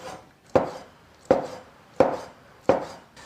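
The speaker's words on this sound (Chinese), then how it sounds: "切成粗一点的丝就可以" A kitchen knife chops through food on a cutting board, cutting it into thick strips: four sharp, evenly spaced, close-up strikes at a steady rhythm, each ringing briefly before the next.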